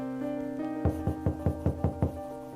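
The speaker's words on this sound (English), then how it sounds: "A knock on the door." Seven sharp knocks on a door, evenly spaced and fairly loud, rapping over a steady tonal music bed with no talking.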